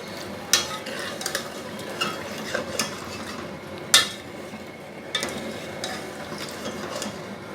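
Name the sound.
tomatoes frying on high flame for chicken karahi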